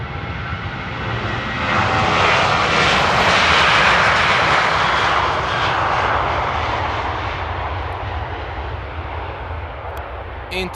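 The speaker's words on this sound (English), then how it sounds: "Last takeoff of the stream today." A jet airliner taking off at Amsterdam Airport roars loudly with a broad, rushing engine noise that swells in the first few seconds, then slowly fades as the aircraft climbs away.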